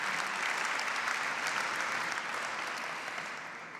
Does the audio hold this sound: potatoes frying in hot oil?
no